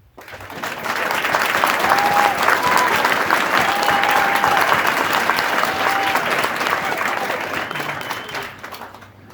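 A meeting audience applauds steadily for about nine seconds over a dense crowd wash, with a few faint voices and tones briefly audible underneath.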